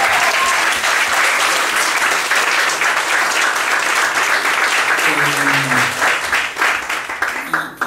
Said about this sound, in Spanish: Un aplauso a Maya.